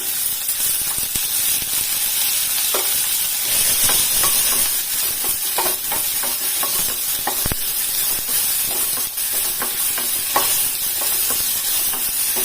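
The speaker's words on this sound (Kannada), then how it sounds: "ಆಯಿಲ್ ಹಾಕೊಂಡ್ಬಿಟ್ಟು ಫ್ರೈ ಮಾಡ್ಕೋಬೇಕು." Medium-sized onions fry in a little oil in a pan, a steady close hiss and sizzle punctuated by scattered stirring scrapes and clicks, with no talking.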